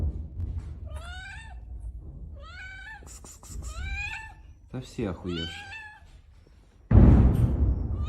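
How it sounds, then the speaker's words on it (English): A cat found in war-torn Mariupol meows repeatedly in short, rising cries close up, while someone talks between the calls, ending with a burst of louder rustling noise. "A cat and a dog that an Azov soldier came across in Mariupol"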